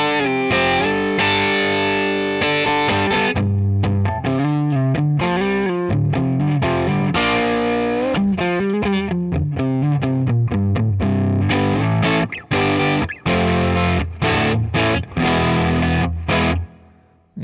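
Electric guitar on a humbucker pickup, drenched in big reverb with effects-unit distortion, playing sustained chords and then choppier melodic phrases, loud and continuous with a few short breaks near the end.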